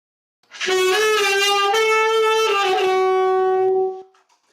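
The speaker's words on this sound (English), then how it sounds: "it's also the sound of the Western saxophone as you know it today." A single saxophone plays a sustained melodic phrase with a few note changes, clear and close, then stops, leaving brief quiet.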